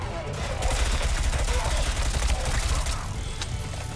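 Rapid SMG gunfire in a video game, a dense, loud, sustained automatic rattle across the whole span, close and continuous, with no talking.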